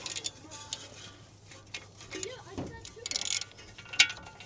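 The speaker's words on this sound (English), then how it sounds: "remove this first bolt in the front." A bolt on a BMW F40 tie rod is worked loose with a ratchet, producing soft clicking and metallic ticking against a low background hum, faint and close.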